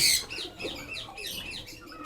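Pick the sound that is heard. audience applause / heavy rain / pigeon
pigeon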